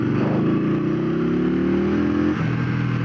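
An Indian Scout motorcycle engine revving hard as it accelerates, a loud, close, continuous rising drone that holds strong, then drops and settles at about two and a half seconds.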